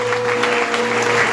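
Congregation in a church clapping and cheering for Madame Naka, a steady dense wash of applause held throughout, fairly loud, with a sustained tone running underneath.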